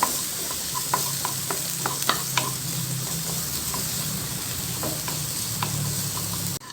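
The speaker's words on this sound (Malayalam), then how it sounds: "ഈ ചെറിയ ഉള്ളി അപ്പോൾ ഇത് നന്നായിട്ട് ബ്രൗൺ ആക്കി എടുക്കാം" Small onions frying until brown in a pan, a constant loud sizzle with scattered spoon taps and clicks of stirring over it, cutting off abruptly at the end.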